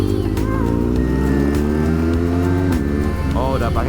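A BMW R 1200 GS K51 adventure-touring motorcycle with a 1200 cc engine and quick shifter pulls hard, its loud, steady engine drone climbing in pitch, dipping briefly at a gear change, then rising again.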